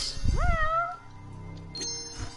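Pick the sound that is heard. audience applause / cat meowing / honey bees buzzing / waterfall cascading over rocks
cat meowing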